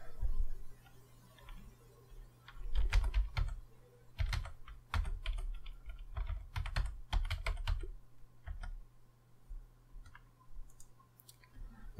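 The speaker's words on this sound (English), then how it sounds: "And type it in again." Passphrase typed on a computer keyboard in irregular bursts of close, crisp key clicks with brief pauses, over a steady low hum.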